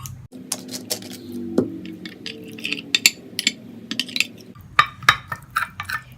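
A thick paste of wheat flour, mustard oil and rose water being stirred in a bowl, giving close, irregular scraping and clicking taps against the bowl, with no talking.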